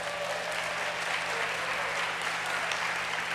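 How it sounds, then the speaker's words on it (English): Steady, dense applause from an audience at a NAVS Hall of Fame induction ceremony for a vegan homesteader inductee, filling the room evenly throughout with no break. "Let's give him a cheer."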